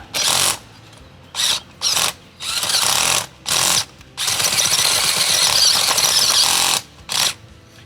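A powered bulb auger drill roars in several loud bursts, straining and grinding as it binds in compacted soil, with short pauses between runs and one long sustained push.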